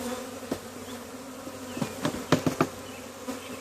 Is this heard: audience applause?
no